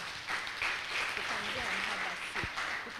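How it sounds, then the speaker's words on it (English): An audience at a peer educators' workshop claps for a participant. The clapping is moderate and steady, and a voice talks over it partway through, ending in a couple of sharper knocks. "Clap for her."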